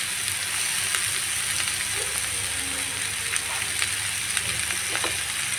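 Mixed vegetables fry and sizzle in a pan with a constant hissing crackle, close and even throughout, with a few faint stirring knocks.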